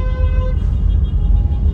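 Congested street traffic along a public transport route near a market in Manado, a dense rumble of idling and crawling vehicles with a brief horn-like tone at the start, close and steady.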